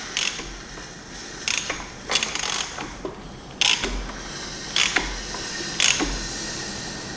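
Someone turns the crankshaft of an SR20DET engine by hand with a ratchet, making short, close bursts of metallic clicking separated by pauses. A faint steady background hum runs underneath, and no one talks.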